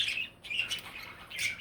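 Budgies in an aviary give a few short, faint chirps and squawks near a new swing, two quick calls close together with a pause between them.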